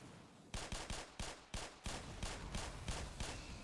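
Gunfire in the video game Black Mesa: a rapid series of about eleven sharp shots in an irregular rhythm over steady background ambience, fairly quiet overall.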